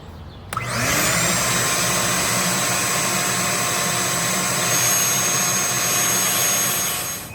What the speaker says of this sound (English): you're going to want to vacuum out the bottom.